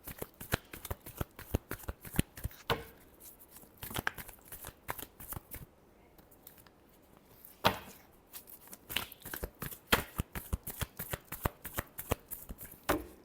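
Tarot cards being shuffled by hand for a reading, a long run of crisp riffling flutters and taps in repeated bursts, close and fairly quiet with brief pauses between rounds.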